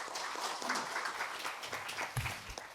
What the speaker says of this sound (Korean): 박수와 함께 단상으로 모시겠습니다